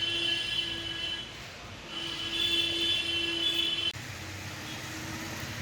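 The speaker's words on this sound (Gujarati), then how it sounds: "ખૂબ જ સરસ મજાની મીટર ગેજ ટ્રેન. 5 ડબ્બાઓ સાથે ચાલે છે આ જૂનાગઢથી દેલવાડા," A five-coach meter gauge train runs from Junagadh through the Sasan Gir forest, heard as a steady loud rumble of rolling wagons with sustained high wheel squeal that fades and returns.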